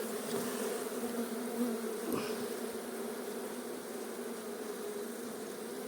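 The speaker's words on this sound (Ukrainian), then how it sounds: "Ну, бджоли бачимо, скільки." Honey bees buzzing steadily in an opened beehive during a spring inspection, a dense, continuous hum close by with no talking.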